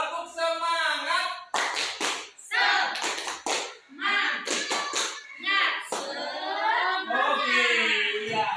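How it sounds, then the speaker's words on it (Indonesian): A group clapping chant led by a facilitator with adult women: bursts of rhythmic hand claps alternate with chanted and sung phrases, voices prominent throughout. "Tepuk semangat."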